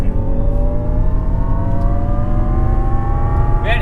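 A Jaguar I-PACE electric SUV drives fast around the Portimao race circuit, its motor whine rising steadily in pitch over a constant roar of road and wind noise.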